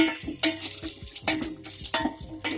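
A spoon stirs chopped green chillies in a pan for egg semiya, giving repeated scraping strokes about every half second over a soft sizzle, close and clear with no talking.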